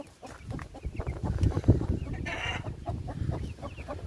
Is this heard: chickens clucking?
yes